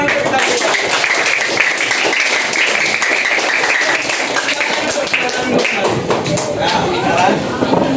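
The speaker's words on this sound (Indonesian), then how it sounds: "Tepuk tangan untuk kita." A classroom of students applauds together during a history lesson, a dense, steady wash of clapping that runs the full length at even loudness, with faint voices mixed in beneath it.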